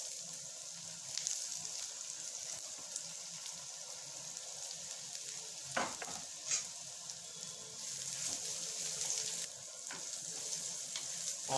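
Onions and garlic frying in a pan as the base for a fish curry give a steady, continuous sizzle throughout, with occasional stirring scrapes and brief louder crackles. No one speaks.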